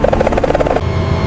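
A helicopter descends toward an emergency landing in autorotation after its engine stops, giving a loud, rhythmic rotor chop that gives way to a steadier, lower rumble, with no voices.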